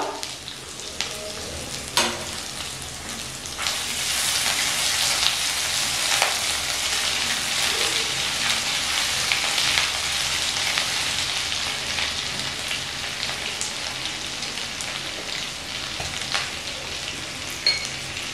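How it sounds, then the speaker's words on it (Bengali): Ginger paste fries on a low flame, a steady close crackling sizzle with a few sharp clicks and spoon scrapes scattered through it, continuous and moderately loud, with no voices. "লো ফ্লেমে আদা বাটা একটু ভালো করে ভেজে নিচ্ছি।"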